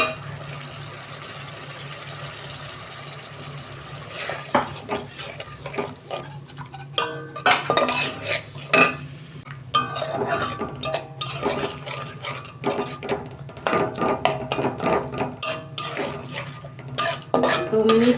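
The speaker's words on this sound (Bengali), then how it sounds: "দু মিনিট আমি আর একটু মশলাটাকে কষাবো।" Spice paste with yogurt being stir-fried in a pan: repeated close clanks and scrapes of a metal spoon against the pan over a low sizzle, irregular and busy.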